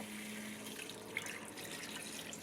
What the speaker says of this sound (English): And then we're going to go ahead and add our water to cover it.